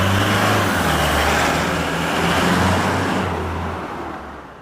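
A Toyota Hilux GUN125 fitted with a Ganador GDE-series aftermarket muffler drives by at low speed, giving a steady, loud, low exhaust drone that fades slightly toward the end.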